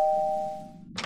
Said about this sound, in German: Eine Klingel. Genau. Ich Klingel.